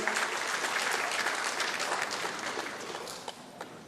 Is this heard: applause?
yes